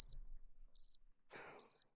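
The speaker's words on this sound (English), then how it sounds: "Crickets." Cricket chirps used as a sound effect: three short, bright trilling bursts with brief silent gaps between them, clear and close, with no voices.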